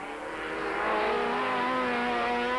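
Turbocharged Beetle rallycross race car accelerating hard, a loud rising engine note with strong harmonic whine building and holding close by, no talk.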